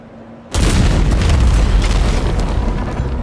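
In the video game Wuthering Waves, the Disruptor weapon fires a huge, loud explosion that booms in suddenly and keeps rumbling with a sustained, roaring blast.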